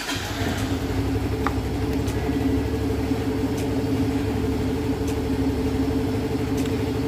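A Yamaha Mio or Soul GT motor scooter idles steadily close by, a continuous low engine rumble with an even hum that holds level throughout, with no talking.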